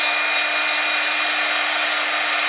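A CNC router runs a cheap 1/8 inch downcut bit in an 1/8 inch collet, cutting a 1/8 inch deep profile pass. It gives a steady, loud, high-pitched whine and hiss that holds constant throughout, with no talking.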